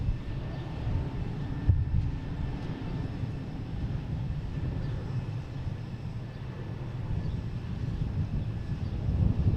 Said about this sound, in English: next taking off is a JetBlue.